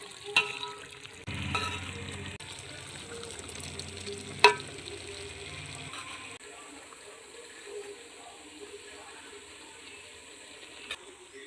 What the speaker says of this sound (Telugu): ఇప్పుడు మనం రైస్ కూడా ఎయిటీ పర్సెంటేజ్ ఉడికించుకున్నాం దీన్ని ఇందులో వేసేసుకుందాం రైస్ వేసుకుందాం